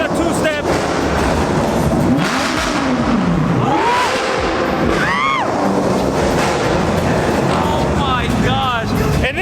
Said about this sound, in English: They're finally gonna do the two-step.